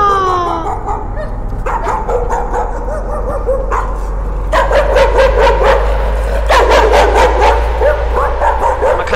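Loud, close dog barking in the Layers of Fear video game: a quick run of yaps and yelps, some whimpering and howl-like cries, over a steady low drone.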